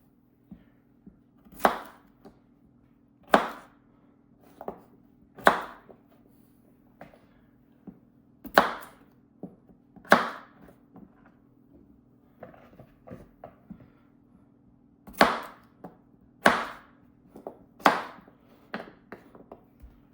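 A Swisstech Stählern knife in AUS8 steel chopping stew ingredients on a board, with a steady run of sharp, close chops at an uneven rhythm and brief pauses, with no talking.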